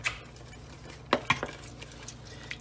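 Pizza sauce for Chicago deep dish is stirred after a pinch of red pepper flakes goes in, giving a couple of sharp spoon knocks against the pot around the middle, then softer scraping over a quiet simmer.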